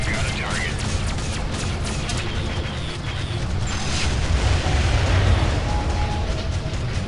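Spaceship weapons fire and exploding ships in the space combat game Freelancer, a steady barrage of rumbling blasts and crackling bursts, with someone talking over the action.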